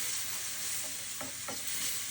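Wine hitting a hot pan for chicken piccata, a brief steady sizzle with a couple of quick stirring scrapes, close and alone without talk.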